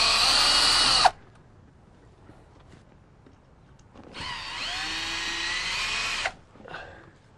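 Power drill backing screws out of an old aluminum window frame, two loud whirring bursts of about a second and two seconds separated by a quiet pause, with a faint short tail after the second.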